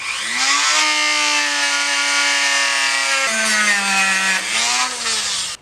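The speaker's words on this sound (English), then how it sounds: "So let's go ahead and grind off the top of the pin." A power grinder cuts off the top of a metal pin on a Harley Twin-Cam chain tensioner. It gives a loud, continuous high whine up close, with the pitch dropping briefly as the load changes midway.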